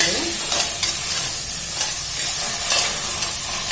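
Tomatoes hit a frying jackfruit biryani masala in a pan, giving a loud, close sizzle with steady scraping stir strokes throughout.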